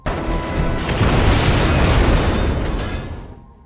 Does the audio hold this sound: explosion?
yes